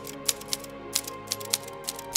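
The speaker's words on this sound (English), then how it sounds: "Fleming sits down and tests it out by tapping out a priceless message." Keystrokes from a golden typewriter, Ian Fleming's, clack in an irregular rhythm of about ten sharp strikes over a low steady background hum, fairly close and clear.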